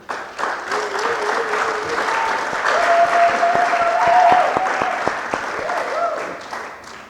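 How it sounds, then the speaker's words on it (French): A French-speaking audience of young people gives a sustained round of applause for themselves, with crisp, dense clapping that stays loud for several seconds before tapering off. A voice talks faintly through it. "je vous demanderai d'applaudir pour vous-même"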